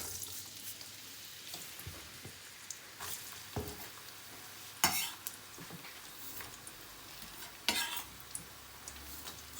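Onions frying in hot oil for chicken karahi give a steady sizzle, with intermittent clinks and scrapes from stirring against the pan.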